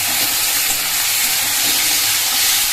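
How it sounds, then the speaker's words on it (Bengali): Dried red chilli, bay leaf and whole cumin seeds crackle in hot oil in a kadai, a loud, steady broadband sizzle running unbroken throughout with no voices. "কড়াইয়ে তেল দিয়ে দিয়েছি, আর তেল গরম হয়ে গেছে, দিলাম হচ্ছে একটা শুকনো লঙ্কা আর তেজপাতা হচ্ছে গোটা জিরা।"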